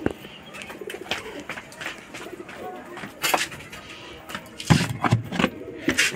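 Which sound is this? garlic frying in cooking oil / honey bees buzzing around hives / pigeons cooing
pigeons cooing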